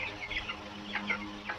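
A flock of 23-day-old broiler chickens, each nearly 1.5 kg, clucks and chirps continuously nearby in short, overlapping calls over a constant farm background hum.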